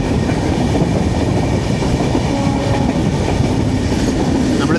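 The 12431 Rajdhani Express from Thiruvananthapuram to H. Nizamuddin runs at speed, a steady, loud, close rumble of wheels and carriages with faint rhythmic clatter throughout.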